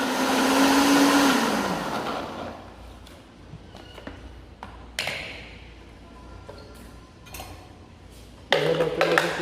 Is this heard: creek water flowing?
no